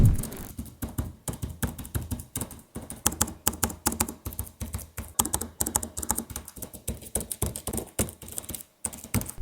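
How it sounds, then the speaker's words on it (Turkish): Quick, steady typing on a gaming laptop keyboard with soft clicky keystrokes, close up and alone, broken by occasional short pauses. "Şimdi gelin klavyenin bir sesini dinleyelim."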